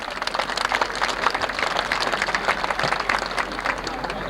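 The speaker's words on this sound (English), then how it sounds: "A round of applause for Tom Carlson." A crowd applauds steadily at a stock car race at Raceway Park, Shakopee, Minnesota, a dense wash of clapping that holds at an even level throughout.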